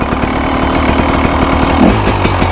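A 2025 KTM 300 XCW Factory Edition two-stroke dirt bike engine runs steadily and loudly up close, its fast, buzzy pulsing sustained without pause.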